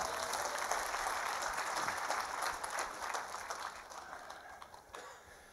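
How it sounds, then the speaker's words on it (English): A church congregation claps hands in praise during a sermon, giving a full, steady round of applause that gradually thins and fades toward the end. "give God a hand clap of praise"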